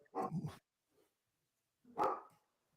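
Two short, sharp bursts sound like dog barks, one near the start and one about two seconds later, with quiet between. These are New Year's Eve fireworks that mimic barking.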